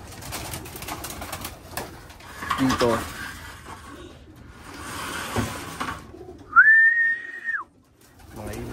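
Racing pigeons at a one-loft race coo faintly beneath steady nearby talk, with a brief, clear whistle-like tone near the end.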